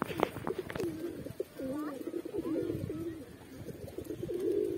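Pigeons coo in repeated low, throaty phrases, close by, with a few flutters and scuffs around them and no talk over them.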